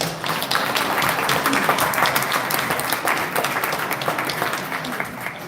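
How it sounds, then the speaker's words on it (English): A room full of people at a Dolton meeting applauds the fire chief, steady dense clapping that holds fairly loud and even for several seconds before easing slightly at the end. "Let's give him a round of applause"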